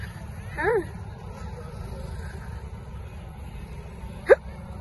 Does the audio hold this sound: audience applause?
no